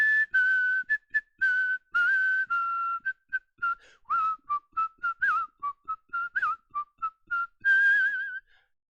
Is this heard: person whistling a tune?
yes